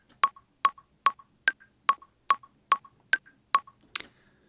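Metronome-like beat in Ableton Live at about 145 BPM: evenly spaced sharp electronic clicks, each trailed by a softer echo blip, clean and alone, ending with a brighter final hit.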